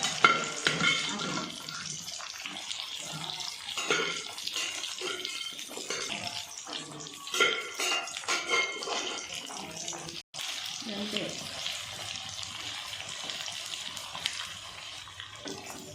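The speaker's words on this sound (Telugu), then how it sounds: "నూనె అయితే వేడైందండి వేడైన తర్వాత మటన్ ముక్క కూడా వేసుకోవాలండి" Mutton pieces sizzling and frying in hot oil over a low flame for mutton pickle, a steady broadband crackle and hiss running throughout, fairly close and continuous.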